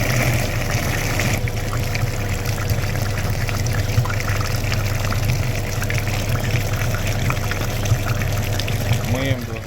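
Water gurgles and pours steadily through hoses while flushing a VW Jetta's engine cooling system, with a continuous pump-like rumble underneath, the flow sound holding constant throughout.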